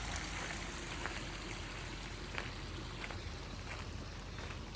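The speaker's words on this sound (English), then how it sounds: "Little waterfall action." A small waterfall at a backyard greenhouse party splashes in a steady, even wash of flowing water, soft and continuous with no pauses.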